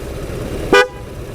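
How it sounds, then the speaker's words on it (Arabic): A 2016 Cadillac ATS Coupe sounds its horn in one short, loud, close toot against a steady background hum. "أعطيكم فكرة عن صوت الهرن"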